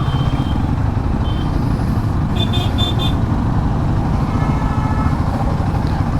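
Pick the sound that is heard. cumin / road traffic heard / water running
road traffic heard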